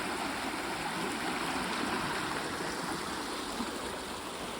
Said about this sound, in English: Beautiful small river or a stream, I'm not sure.